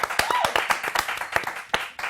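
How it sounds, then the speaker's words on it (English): Studio audience applause on a South African entertainment talk show, a brisk patter of scattered individual claps at close range with some talk and voices over it. "Give him a round of applause."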